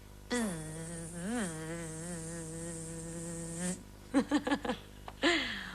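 A voice imitates bees at a beehive in a children's programme, holding a long wavering buzzing hum for about three seconds, then a quick series of short buzzy bursts and a final brief buzz.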